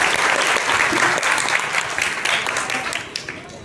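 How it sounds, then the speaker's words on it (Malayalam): An audience at a stage show claps in dense, steady applause that fills the whole stretch, easing slightly toward the end. "അച്ഛന് ഒരു കൈയടി കൊടുത്തേ"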